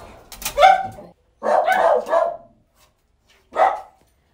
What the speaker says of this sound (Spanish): Hay cuatro perritos ahí.